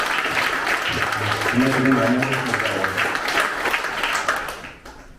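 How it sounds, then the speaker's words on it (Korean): A crowd at a Korean election campaign committee disbanding ceremony in Incheon applauds its campaign staff, sustained clapping from many people that fades near the end while someone speaks over it. "우리 특히나 스텝 여러분들께 박수 한번 보내주시죠."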